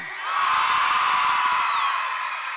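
A concert crowd screams and cheers in one loud, sustained roar that swells and holds for a couple of seconds without a break.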